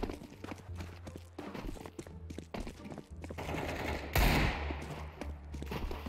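Desert Eagle pistol fire in Counter-Strike: sharp, scattered cracks over busy game ambience and footsteps, with one loud burst of shots near the end.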